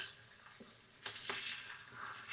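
Bacon frying in a pan for a breakfast sandwich, a steady quiet sizzle with a couple of brief stirring scrapes, close and alone with no talk.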